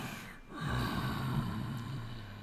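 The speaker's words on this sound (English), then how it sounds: "sound of the dragon breathing, right, coming in and out" Sound effect of a huge slumbering dragon in a tabletop game, breathing in and out: one sharp breath, then a long heavy exhale with deep rumble, close and loud.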